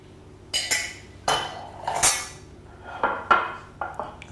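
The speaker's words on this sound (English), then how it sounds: "the boiling sauce, I'm just going to spoon over the mussels." Several sharp clinks of a spoon against a pot and dish while spooning boiling sauce over mussels, spaced irregularly, close by with a faint background hum.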